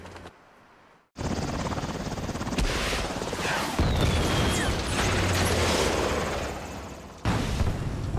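Helicopter in a Saints Row reboot mission, heard as a loud, steady rotor and engine roar running almost the whole time after a brief quiet start, mixed with busy game action noise.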